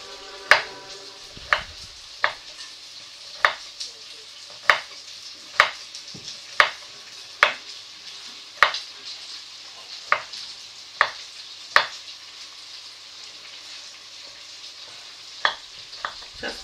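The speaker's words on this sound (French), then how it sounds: "Il est en train de faire rissoler les oignons." Onions are browned in a pan for a Chap Chap dish. A soft sizzle runs underneath as sharp utensil knocks and scrapes against the pan land about once a second, with a short pause near the end.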